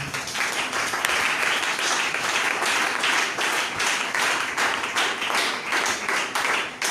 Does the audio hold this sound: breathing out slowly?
no